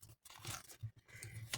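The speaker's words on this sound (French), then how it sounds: "Donc là, je marque tous mes plis en premier." Paper being creased into folds for a handmade box, a few crisp crunching and rustling strokes close by with brief pauses between them.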